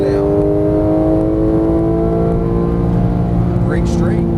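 A Porsche GT3 991 engine held at full throttle, a loud steady high-revving drone with tones rising smoothly, continuous and close, a voice speaking briefly over it.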